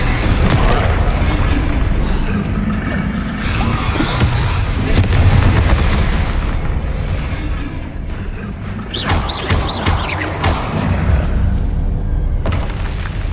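Confringo, a fire-blast spell in the video game Hogwarts Legacy, produces loud booming explosions layered over continuous dense combat noise and crackling effects, with no pause throughout.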